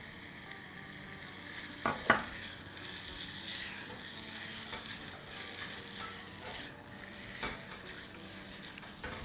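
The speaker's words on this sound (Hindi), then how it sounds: "बस इसको हम जब तक फ्राई करेंगे जब तक थोड़ा बहुत इसका कलर चेंज ना हो जाए।" Minced meat frying in a pan for samosa filling, a faint continuous sizzle with a couple of sharper clinks or scrapes near the start and occasional stirring, quiet and alone.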